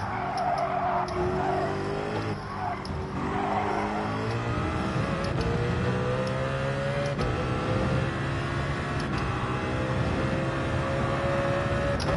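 In Gran Turismo 7, a racing car's engine revs hard through gear changes, the pitch repeatedly climbing and dropping, steady and loud with tire noise over the run.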